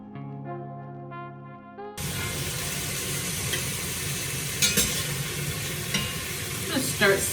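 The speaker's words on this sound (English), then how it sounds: "we're going to put olive oil in the skillet when we go to sear it" A pot roast sears in olive oil in a skillet, giving a loud, continuous sizzle with occasional scrapes and stirring noises after a brief quiet musical opening.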